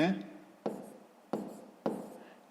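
A pen scratches on paper in four short, close strokes, each starting with a light tap and fading, following a brief bit of speech at the start.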